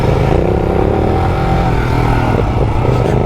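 A Yamaha Ténéré adventure motorcycle rides a trail with its engine loud and close throughout, a steady droning roar with slight rises in revs and rough wind and terrain noise mixed in.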